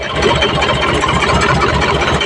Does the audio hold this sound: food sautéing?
no